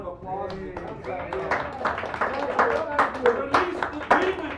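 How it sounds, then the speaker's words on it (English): An audience at a poetry open mic in Sacred Grounds Cafe, San Francisco, claps in a brief burst of applause, with voices talking loudly over the clapping. "give this man a round of applause"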